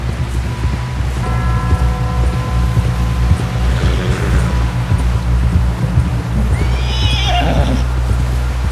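Horse in Red Dead Redemption 2 whinnies loudly near the end, over steady hoof clip-clop and a low rumbling background throughout.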